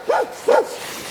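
A stray dog in Portugal gives two evenly spaced barks, loud and fairly close, with quiet between them.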